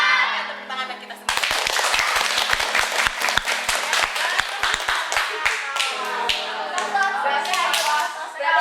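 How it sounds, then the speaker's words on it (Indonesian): An audience at a school orientation event claps, with a sharp burst of applause breaking out after a moment of talk and continuing steadily in scattered, rhythmic hand claps, near and fairly loud. "Tepuk tangan buat kita semua."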